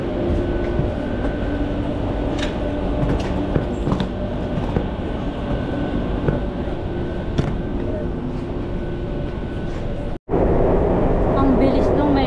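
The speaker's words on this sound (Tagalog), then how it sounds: "Ang bilis ng metro. Parang lumilipad." Madrid metro train running toward Feria de Madrid, a loud continuous rumble with rhythmic clicks from the wheels on the track, a brief dropout near the end, and someone talking over it.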